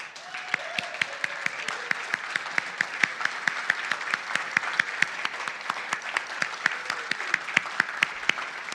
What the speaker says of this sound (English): Doesn't it feel good to have people clap for you?